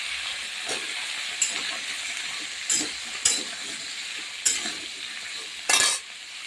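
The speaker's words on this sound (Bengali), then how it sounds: "আমি ডাটা আলুটা দিয়ে দিলাম দিয়ে তারপরে সর্ষে লঙ্কাটা বেটে নেবো একটু নাড়াচাড়া করে নিই" Taro stems and potatoes sizzle steadily in a pan with a spatula stirring them, several sharp scraping strokes standing out above the continuous frying hiss, close and alone.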